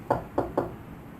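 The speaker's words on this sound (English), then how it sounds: "I am just going to knock until Lori comes to see me." Three firm knocks on a door at a custom T-shirt business. They are close and evenly spaced, each a short sharp rap, with nothing else heard.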